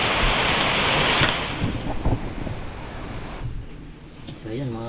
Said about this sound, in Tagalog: lakas po talaga ng ulan, no?